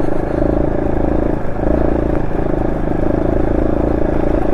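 A Honda SL230 motorcycle engine with a swapped muffler and retuned carburetor runs loud and close, a steady rumbling idle with a brief dip and slight throttle variation throughout.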